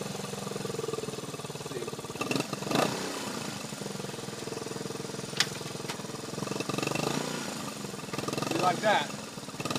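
A 1977 Honda CT90 trail motorcycle with its original carburetor idles steadily with a couple of revs, the engine close and continuous while someone speaks briefly over it.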